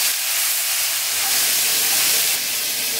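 Garlic sizzling hard in hot cooking oil and butter in a wok, a loud, dense, steady hiss that fills the whole stretch without pause or talk.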